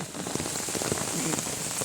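Steady rain pattering on a hard surface, a dense continuous hiss dotted with brief drop taps throughout.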